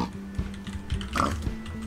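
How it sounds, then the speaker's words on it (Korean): A skeleton pig from the Minecraft Weird Things mod grunts in a few short, close in-game snorts, alone without talk. "그 다음 이거는 피그, 스켈레톤 피그죠"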